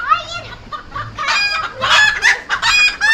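Chickens cluck and squawk in a coop, busy and close with overlapping calls.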